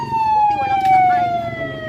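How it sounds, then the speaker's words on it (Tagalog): A loud, nearby ambulance siren wails with a steady, slowly falling tone at a street collision between a car and a tricycle, with traffic rumble beneath and voices in the background. "Ambulansya na."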